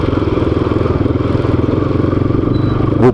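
A motorcycle engine idles close by with a steady, rapid chugging pulse near a motorcycle workshop on a town street in Tatuí, ending in a brief rising rev.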